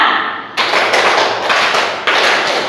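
A classroom group claps five times in a counted clapping exercise. The loud, slightly uneven group claps land in a steady sequence of separate bursts, with no voices.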